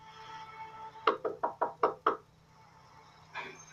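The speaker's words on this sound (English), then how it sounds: "There was no doorbell, so I just knocked really hard" Six hard, evenly spaced knocks on a door, loud and close, over a low steady hum, followed by a faint muffled sound.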